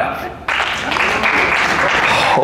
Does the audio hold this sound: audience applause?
yes